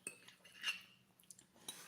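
Metal cutlery clinks against a plate while someone eats fried noodles mixed with egg and bird's eye chilies, a few scattered light taps, close and faint, with no voices.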